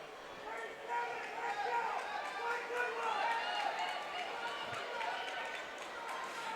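Runners' footsteps patter on a banked indoor track at the New England Indoor Track Championships, a steady rapid rhythm blended with crowd noise and an announcer talking over it.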